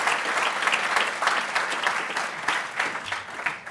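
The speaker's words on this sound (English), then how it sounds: "let's give him a round of applause" An audience applauds a speaker at a talk on the Australian community and reform, a steady wash of many hands clapping close and continuous for a few seconds before easing off slightly.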